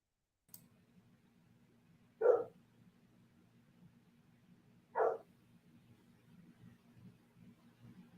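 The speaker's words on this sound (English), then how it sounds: "You letting the dog talk for you?" A dog gives two sharp, separate barks a few seconds apart, close and fairly loud, over a steady low hum and background murmur.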